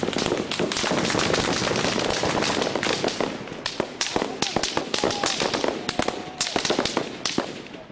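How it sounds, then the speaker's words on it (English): Security forces fire on anti-government protesters in the Bahraini capital, a loud, rapid series of cracking gunshots in uneven bursts over constant crowd noise. "security forces opened fire on demonstrators"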